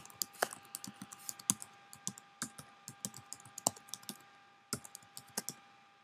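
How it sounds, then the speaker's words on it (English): Typing on a Mac computer keyboard, a steady run of crisp, close key clicks with irregular rhythm and occasional louder strikes, heard alone without any talk. "I'm just going to type login and type my username as root and my password."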